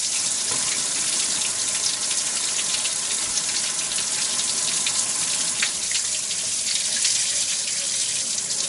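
Water and coolant gushing from a blocked heater hose on a two-wheel-drive Ford during a coolant flush, a steady broadband splashing rush that runs unbroken and loud throughout.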